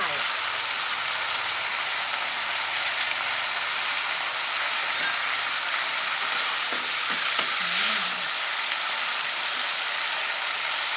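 Pork with sweet pepper and garlic stir-fried in a wok, a steady close sizzle broken by a few scraping stirs of the spatula and a brief clatter near the end, with no speech.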